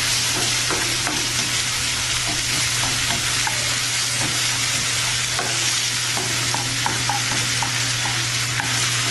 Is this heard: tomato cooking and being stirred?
yes